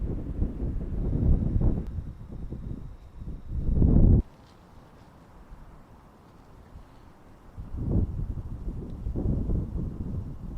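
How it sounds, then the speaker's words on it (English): Gusts of wind buffet the microphone on a mountainside, heavy low rumbling bursts that drop away to a quiet lull before picking up again, with no talk. "It's windier than I hoped down here."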